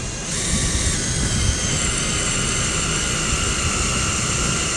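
A cutting bit reams a 4L60E transmission bore with lube, giving a steady broadband whirring hiss with a high tonal whine, constant and fairly loud throughout with no speech.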